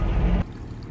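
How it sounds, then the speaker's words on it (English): Water bubbling out of a field embankment and running down into the field, a dense, broad rush that is loud for the first half second and then cuts to a softer, steady flow. "the water's bubbling out of the embankment and then flowing down"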